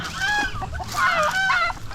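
Geese honk repeatedly in a rural Philippine farmyard among chickens and turkeys, a series of nasal calls at moderate distance with overlapping bird sounds and faint background noise.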